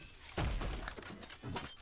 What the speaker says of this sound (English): Secondary fire fires a grenade, which sort of travels a certain distance and then detonates